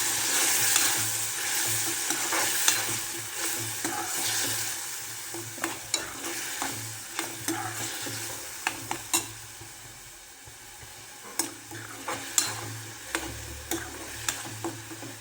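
A spice masala for methi matar malai sizzles as it sautés in oil, with a steady frying hiss. A spoon or spatula stirs it in repeated sharp scraping taps.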